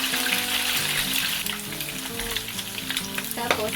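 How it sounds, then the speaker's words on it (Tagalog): Garlic frying in oil in a wok, a continuous close sizzle with bursts of crackle and the scraping clatter of stirring, loudest toward the end. "Ilalagay na po natin yung ating garlic. At hahaluin po natin."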